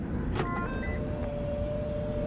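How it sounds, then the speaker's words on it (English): A Toyota C-HR crossover being unlocked, a brief click followed by a short electronic chirp and faint whirring tone over steady outdoor background noise. "And then when you unlock the car,"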